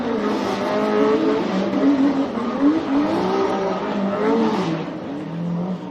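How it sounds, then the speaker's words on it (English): A drift car doing celebratory donuts at a Formula Drift Championship round in Orlando, its engine droning and wavering loudly and steadily throughout, with tire squeal blended into the revving at close range. "And some celebratory donuts for Chris Forsberg."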